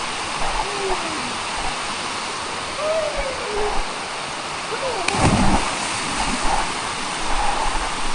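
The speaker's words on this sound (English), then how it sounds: "It is pissing it down." Heavy tropical rain pours down beside a waterfall in Siquijor, a dense, loud, continuous hiss of falling water with no break, and a brief thud partway through.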